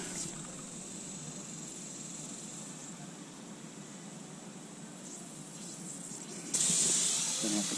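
A garden hose in a yard with raspberry, blackberry and grape vines sprays a steady, loud hiss of water that continues unbroken and gets louder and brighter near the end.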